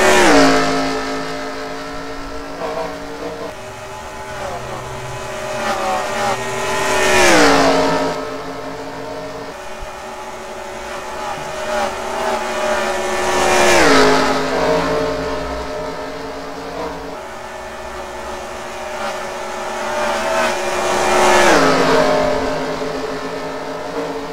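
Race cars circle a track in a NASCAR video game, engines droning loudly with rising and falling pitch as the pack sweeps past in three distinct passes.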